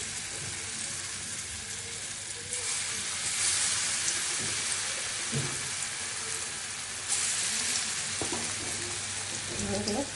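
Jackfruit kofta balls, marinated and dropped one at a time into hot oil, fry with a steady, loud sizzle throughout, with small splashes and bursts rising now and then.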